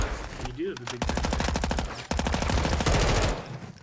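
Rapid automatic machine gun fire in Warzone 2, loud and close, in two sustained bursts with a brief break between them, with a voice faintly under the shots.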